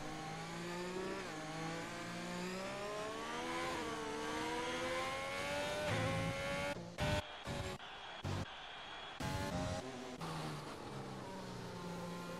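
A Racing Point F1 car lapping the Chinese GP in an Xbox racing game: a high engine whine climbs and falls through gear changes, with brief sharp cut-outs near the end, heard alone.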